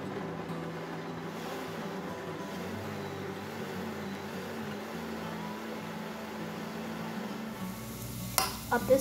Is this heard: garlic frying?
yes